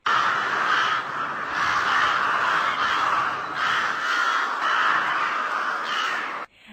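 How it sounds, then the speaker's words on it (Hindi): A crowd of crows caws loudly and continuously in an animated Hindi children's story, overlapping harsh calls rising and falling in waves for several seconds before stopping abruptly. "चारों तरफ काऊ काऊ की आवाज गूंजने लगी।"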